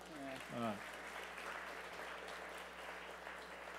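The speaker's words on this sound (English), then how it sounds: "Let's get a round of applause for that." Audience applause at a school space day event, honoring an astronaut's days in space, a soft, even clapping that follows a brief voice and continues at moderate level.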